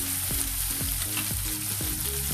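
Ingredients sautéing in hot cooking oil for a bottle gourd dish, a steady close sizzle with rhythmic scraping stirs of a spatula repeating about every half second.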